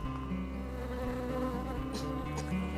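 Dense, steady buzzing of many honeybees close by on a hive frame, a continuous droning hum with no voices.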